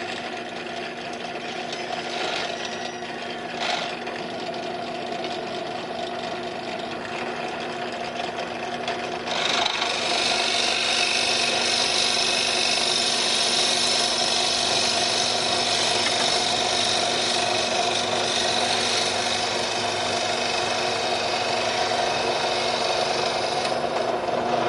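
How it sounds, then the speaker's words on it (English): Power drill boring a hole through wood for a ferrule, a continuous whining motor drone that steps up louder and rougher midway as the bit bites, sustained with no talk. "it's actually hard to hold this in place while I'm drilling it"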